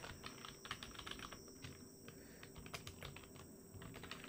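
Steady typing on a computer keyboard while coding a stopwatch app in React, quick key clicks running throughout at low level over a faint background hum.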